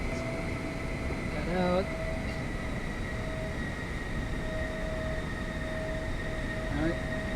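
F-14 Tomcat jet in the X-Plane 12 flight simulator, a steady whining engine roar with a constant tonal hum throughout, with someone speaking briefly over it.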